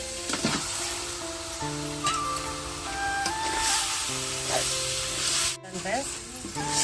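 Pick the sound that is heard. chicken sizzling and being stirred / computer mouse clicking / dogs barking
chicken sizzling and being stirred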